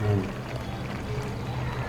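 Yellow kesari colour water poured into a pan, a short soft liquid splash and trickle, close and fairly quiet.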